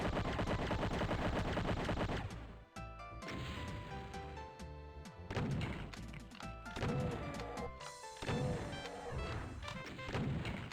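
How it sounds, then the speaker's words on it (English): Rocket and gunfire shots in a video game, a dense run of rapid bursts and heavy blasts that keeps going with only brief pauses, loud and close, with no speech over it. "So hard to hit with rockets."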